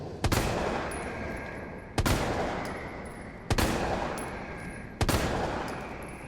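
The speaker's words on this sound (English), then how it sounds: "I think I'm gonna just shoot him with his mouth shut" Four loud Magnum revolver shots are fired at a Hunter Gamma in Resident Evil 3 Remake, evenly spaced about a second and a half apart, each booming blast trailing off into a long echoing decay.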